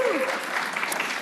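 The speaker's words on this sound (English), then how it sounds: "I heard some cheering." Audience applause and cheering fill a hall during a disability-council legislative forum, a steady dense wash of clapping with a brief whoop at the start, lasting about a second.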